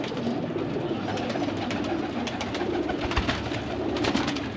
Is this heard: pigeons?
yes